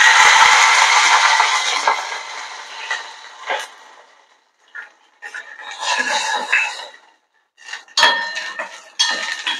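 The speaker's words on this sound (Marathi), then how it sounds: "स्वीट कॉर्न आपल्याला व्यवस्थित परतवून घ्यायचे." Sweet corn is stirred in a pot with hot oil, bursts of sizzling and scraping utensil clinks coming in uneven waves with quiet gaps between.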